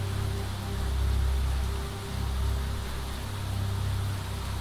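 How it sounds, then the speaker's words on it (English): Rain falls in Planet Crafter, a steady wash of hissing droplets on surfaces with a low rumbling undertone, continuous and fairly quiet, swelling slightly now and then. "Wow, look at this rain now."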